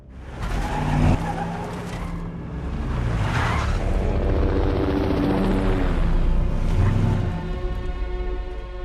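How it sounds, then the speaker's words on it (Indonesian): A police helicopter in an action film scene, loud rotor thump blended with car engine roar and tire squeals during a chase, mixed with tense score. "Danny dan Will fokus menghindari pantauan helikopter polisi"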